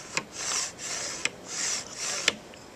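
Homemade PVC ghost shrimp pump, fitted with a bolt stopper, worked in slow strokes: three sharp clicks each followed by a long hissing rush of air, close and alone.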